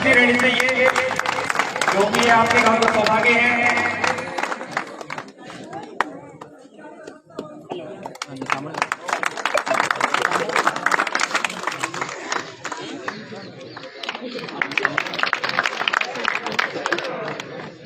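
An outdoor crowd at a 5 km running competition claps in dense, sustained bursts that pause briefly midway and then resume. Chatter and voices run underneath the clapping.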